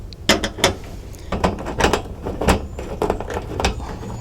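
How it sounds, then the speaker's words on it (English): A screwdriver drives screws into the rod ends of a Vego metal raised garden bed, giving close, irregular clicking and ratcheting bursts with short pauses between turns. "you need a screwdriver to insert the screws on one side or both to the ends of the rods"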